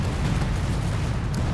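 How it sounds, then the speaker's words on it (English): A coordinated artillery barrage in Company of Heroes 2 rolls on as a continuous deep rumble of blasts, steady and loud throughout with no pauses. "there is some sort of artillery barrage."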